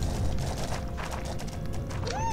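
Clip-clop hoofbeats of a horse running in a Roblox horse-riding game, steady and fairly loud throughout, with a rising whinny-like call near the end.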